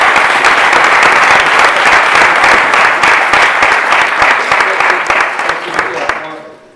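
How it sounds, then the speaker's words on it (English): Big round of applause from a startup event audience, dense sustained clapping close and loud, gradually tapering off and dying away at the end. "That's worth a big round of applause right there."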